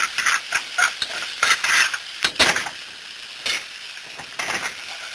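Vegetables for potato soup being sautéed in a pan, with scattered clinks and scrapes of a utensil stirring against the pan in short bursts, moderately close with no talking.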